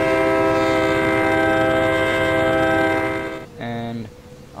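A SPORBUST locomotive in the train game Trainz 2012 sounds a loud, sustained multi-tone horn over engine rumble, which then cuts off and is followed by a short second horn blast.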